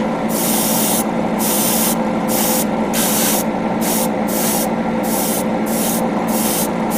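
Steady airbrush hiss spraying Finisher's paint onto a 1/144 HG Gundam G40 model kit at low pressure, continuous and close, with brief dips as the trigger eases off.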